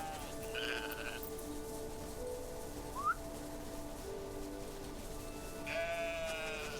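Sheep bleat in the video game Farewell North, set in the Scottish Highlands, with a couple of bleats standing out over a steady ambient backdrop of wind and distant whistle-like tones.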